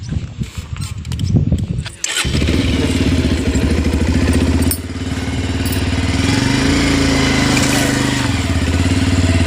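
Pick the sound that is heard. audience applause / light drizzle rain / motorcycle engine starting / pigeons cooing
motorcycle engine starting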